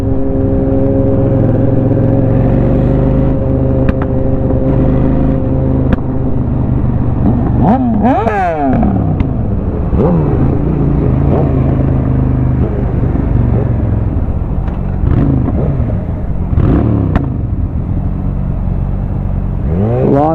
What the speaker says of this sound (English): This thing just pops. I don't know if you guys could hear it, but every rev it just pops.